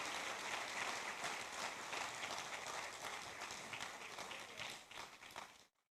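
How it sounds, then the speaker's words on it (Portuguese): A church congregation applauds the Lord during a Portuguese-language service: dense, steady clapping fills the room for about five and a half seconds, then cuts off abruptly into silence. "Você pode aplaudir o Senhor?"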